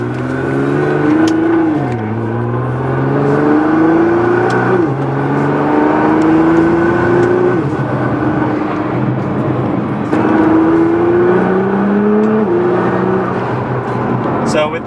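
A turbocharged car with an aftermarket recirculating blow-off valve kit accelerates repeatedly, its engine loud and close with rising revs that drop at each gear shift, over a steady whir and road noise.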